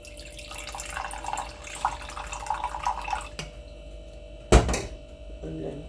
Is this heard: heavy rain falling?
no